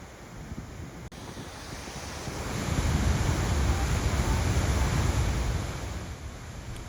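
Niagara Falls on the American side, a broad continuous roar of falling water with wind buffeting the microphone, swelling louder midway before easing slightly.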